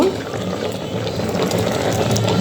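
Pasta bubbling in a pot of boiling water, a steady loud close-up roil of bubbles and hiss continuing without pause.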